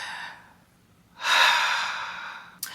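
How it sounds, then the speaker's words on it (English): A person takes a deep breath, a faint inhale followed by a long, loud, close exhale that fades out, ending with a short sharp sniff. "I want you to take a deep breath"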